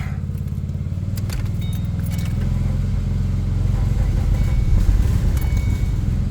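A Ford Mustang V6 engine cranks and catches after a jump start from a lawnmower, settling into a loud, rough, rumbling idle close by that swells slightly as it runs.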